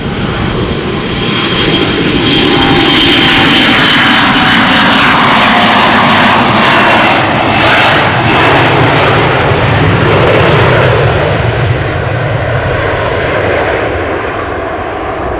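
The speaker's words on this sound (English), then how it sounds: "It is another Embraer 175 from KLM." A KLM Embraer 175 jet airliner takes off at Amsterdam Schiphol, its engines roaring loud and steady at close range, the broad rumble swelling then slowly fading as it climbs away.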